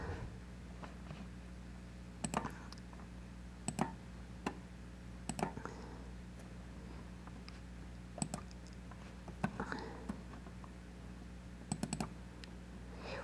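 Computer mouse clicks sound in small clusters of sharp, quiet taps spaced a second or two apart over a faint steady hum in a quiet room.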